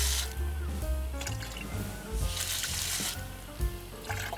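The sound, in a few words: filling a garden sprayer with liquid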